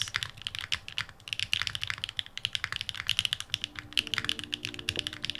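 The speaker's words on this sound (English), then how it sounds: "this is a board that is focused on its sound profile, specifically a foamless clacky sound" Rapid, clacky typing on a foamless Neo60 mechanical keyboard, a dense stream of sharp, bright keystrokes close up, with a faint hum underneath.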